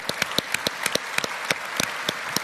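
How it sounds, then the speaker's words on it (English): An audience applauds at a conference held at Radio City Music Hall on Broadway. The clapping is sparse and uneven, with distinct individual claps rather than a dense roar. "Shall we give them a big round of applause?"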